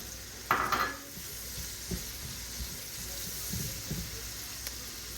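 Peppers are tipped into a cooking pot and stirred, a soft sizzle running quietly underneath with a brief clatter as they drop in, then scattered scraping stirs against the pot.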